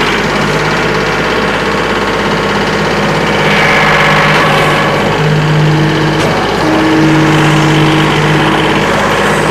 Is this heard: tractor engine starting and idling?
yes